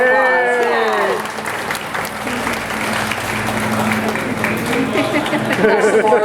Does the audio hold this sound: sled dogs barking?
no